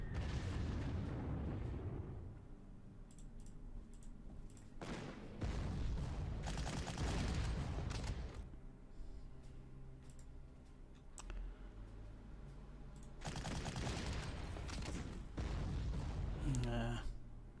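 Heavy bombing and artillery fire in the WWII strategy game Panzer Corps during the Stalingrad assault, with dense rumbling bursts of explosions and gunfire swelling in loud waves, and a voice talking over parts of it.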